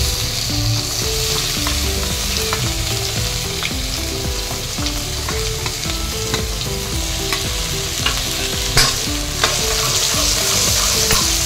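Chopped onions and tomatoes sauté in hot oil for a matar paneer biryani, making a loud, steady, close sizzle and crackle throughout, with no voices.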